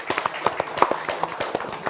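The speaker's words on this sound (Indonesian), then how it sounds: "boleh tepuk tangan" Scattered audience clapping after a public speaking event in Palembang, a loose, uneven patter of individual claps from a small group in a room, with no talking.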